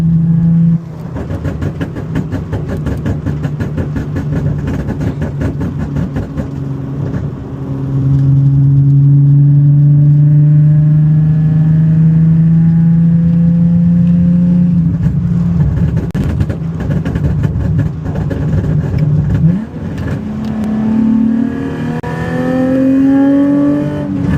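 Nissan 370Z with a flame map tune idling and revving around 3,000 RPM, a loud deep exhaust drone that swells and holds, with crackling pops scattered through the rumble.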